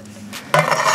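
A small metal pot with its little lid is handled outdoors at an apartment complex dumpster, with a soft rubbing scrape followed by a sudden louder clatter and a rattling, scraping contact that continues to the end.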